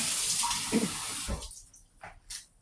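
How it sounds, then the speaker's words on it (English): Water from a kitchen tap runs over a spoon being rinsed while grits are prepared, a steady splashing rush for the first second or so, then fading into a few faint drips and small clinks. "Rinse this spoon off and fix up the plate."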